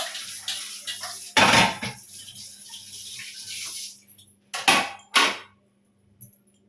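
Dishes are washed at a kitchen sink after cooking, with short bursts of running tap water and splashing, light clinks of pots, and quiet pauses over a faint hum.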